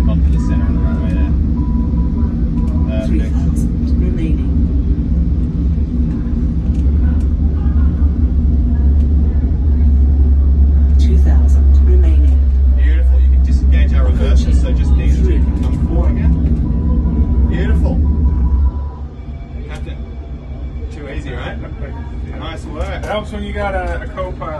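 Boeing 777 reverse thrust in the uFly flight simulator after landing: a steady, loud low rumble that builds and holds for about eighteen seconds, then drops sharply, with talk heard over it.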